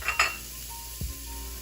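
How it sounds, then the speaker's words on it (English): Aromatics dropped into about two tablespoons of preheated oil in a pan for homemade Kung Pao chicken, giving a quick close clink and brief sizzle followed by a soft knock and a low steady frying hiss. "Evan, if you could put all the aromatics into the oil"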